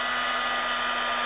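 A heat gun blows steadily to melt embossing powder on a mixed media tag, a loud, even whooshing hiss with a faint constant hum, close up and uninterrupted.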